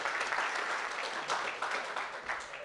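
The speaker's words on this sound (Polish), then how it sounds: "Przyjmijcie go oklaskami." Audience applause at a live Polish finance-channel meetup, a dense steady wash of many hands clapping, fairly loud and sustained for the whole stretch with no talk over it.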